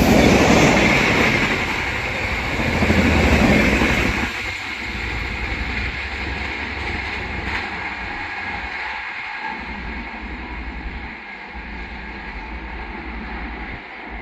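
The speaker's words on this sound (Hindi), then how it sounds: "Barauni clone Humsafar express." The Barauni clone Humsafar Express rushes past at close range, a loud wash of rolling wheels and wagon rumble that eases slightly after a few seconds but keeps clattering steadily to the end.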